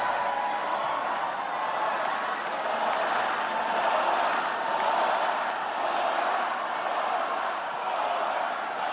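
A large election-night crowd in New York City cheers and applauds mayor-elect Zohran Mamdani as he takes the stage, a dense, sustained roar of clapping and shouting that holds steady throughout.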